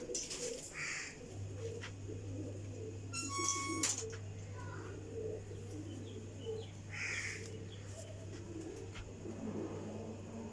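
Sialkoti flying pigeons coo softly in a loft, with bird calls and a passing vehicle hum in the background and a few distant voices.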